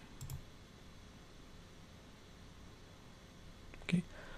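A computer mouse clicks during a software installation, giving two faint, isolated clicks a few seconds apart against a quiet room hiss.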